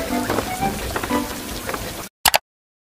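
Steady rain patters on an outdoor surface where someone has been roller skating, a dense continuous hiss for about two seconds before cutting out, followed by a couple of brief sharp sounds.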